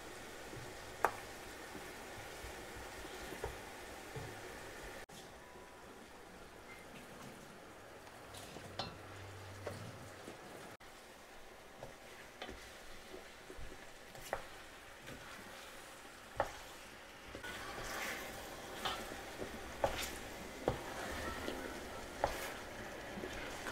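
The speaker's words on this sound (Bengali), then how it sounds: "অল্প একটু ভোনার পর আমরা মাংস দিয়ে দিচ্ছি।" Chicken pieces fry in a pot for Old Dhaka-style morog polao, a faint continuous sizzle broken by frequent metallic knocks and clinks of a spoon stirring against the pot.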